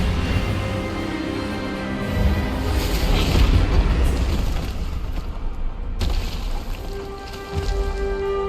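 Expelliarmus spell effect in Hogwarts Legacy: a heavy, booming magical blast with a swelling roar and a sharp cut partway through, loud and close, with no talking.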